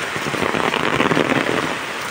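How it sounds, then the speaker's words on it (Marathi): A dense, loud wash of heavy rain pours down steadily, hissing and pattering on nearby surfaces. "कसा पाऊस कोसळतोय बघा"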